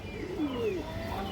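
A male pigeon with a boot-shaped beak coos softly, one low gliding call that bends upward and fades, set against a faint background hum.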